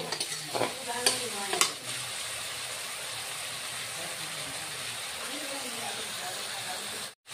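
Potatoes and spices sauté in a pan while a utensil stirs them, giving a steady broadband sizzle with a few scraping strokes near the start and a quick clatter at the end, cooking for a potato and chapila fish curry.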